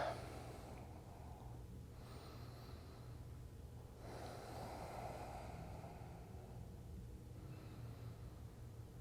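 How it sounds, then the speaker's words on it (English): Slow deep breaths during a vinyasa yoga flow, three long inhale-exhale cycles drawn steadily and close, with soft breathy air over a low steady background hum and no talking. "we'll take about 3 deep breaths"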